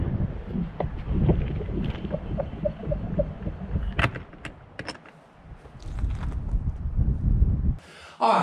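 Gusty, freezing cold wind buffets the microphone at a shelter bunker build site with low rumbling bursts that rise and fall, with a few scattered knocks and clicks.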